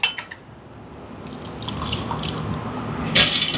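Water is poured into a mixer grinder jar holding soaked urad dal in a home kitchen, a steady liquid trickle that builds gradually and ends with a brief bright clink against the jar.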